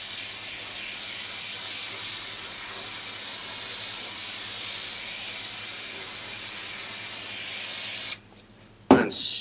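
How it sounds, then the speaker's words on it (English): A can of spray adhesive hisses in one long continuous burst for about eight seconds while coating cut pieces of exercise mat, close and steady, followed by a short clatter. "we spray this with a bit of spray adhesive"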